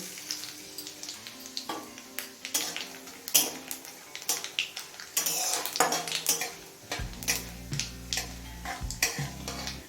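Nigella seeds fry briefly in mustard oil after dried red chillies, for a taro-leaf mash. A spoon clinks and scrapes sharply against the pan in an irregular rhythm over a light sizzle, and a low steady hum joins near the end.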